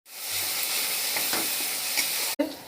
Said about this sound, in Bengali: আর দিয়ে ভালো করে একটু নাড়াচাড়া করে নেব